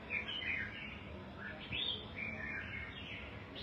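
Small songbirds, being kept for feather molting, chirp and tweet in quick repeated bursts at moderate distance, with faint background hiss.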